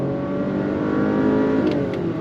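A 2025 Acura RDX A-Spec SUV engine revs hard and steadily under full throttle on a track, a loud continuous roar with no voices.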